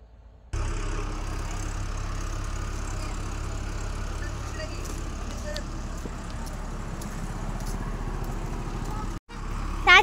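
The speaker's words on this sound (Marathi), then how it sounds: "तर आता एक ट्रॅक्टर आला आहे" A tractor engine runs on a farm field, a steady low rumble throughout that cuts off briefly near the end, with voices in the background.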